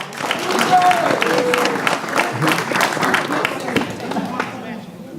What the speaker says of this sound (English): Please give a round of applause as well.